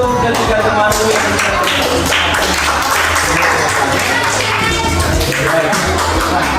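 Classroom of fifth-grade schoolchildren clapping for three classmates, loud and constant hand-clapping with voices mixed in, close and busy throughout.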